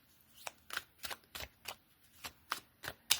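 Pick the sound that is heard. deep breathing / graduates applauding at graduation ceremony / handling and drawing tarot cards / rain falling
handling and drawing tarot cards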